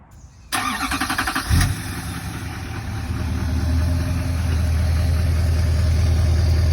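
A 2020s Duramax L5P diesel pickup with a 5-inch aftermarket exhaust and muffler starts up, then settles into a steady, deep, continuous idle rumble that grows slightly louder and fuller, heard close with no talking.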